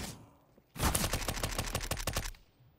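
Rapid automatic gunfire from Counter-Strike: Global Offensive in Wingman mode, a sudden loud burst of evenly spaced shots lasting about a second and a half, heard alone after a quiet stretch.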